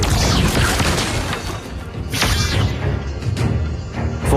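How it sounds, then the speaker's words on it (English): A turret is destroyed in a lane-based online battle game, with dense, loud crashing booms, thuds and whooshes piling up in a busy, continuous burst of combat effects. "Turret has been destroyed."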